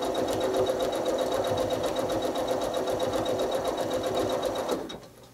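A sewing machine stitching a beginner drunkard's path quilt with zigzags runs at a steady, rapid needle rhythm for about five seconds, loud and close, then winds down and stops near the end.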